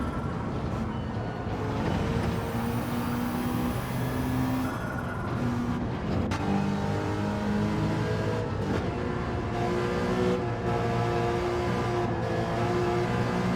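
A DTM race car in Gran Turismo 7 takes a tricky off-camber bend, its engine a steady, loud, harmonic whine that rises and falls in pitch and runs without a break throughout.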